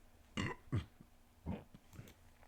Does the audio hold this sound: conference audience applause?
no